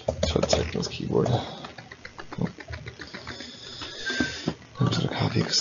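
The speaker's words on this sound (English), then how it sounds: "it's hard to type on my Surface keyboard, which on a inclined podium" Keys clatter in quick irregular bursts on a Surface keyboard at an inclined podium during a presentation, fairly close, with someone talking over much of the typing.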